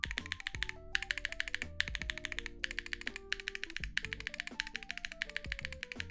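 Rapid, steady typing on a mechanical keyboard fitted with full ABS keycaps, close and crisp, with dense clacking keystrokes continuing throughout and no talk.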